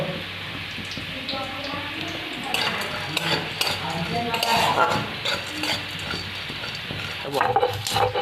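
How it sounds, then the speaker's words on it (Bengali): Whole cardamom, cinnamon and cloves fry in a wok, giving a steady close sizzle with repeated stirring scrapes and clinks of a metal spoon against the pan. "এলাচ, দারচিনি, লবঙ্গ, এগুলো সব ভেজে নিচ্ছি কড়াইয়ের মধ্যে"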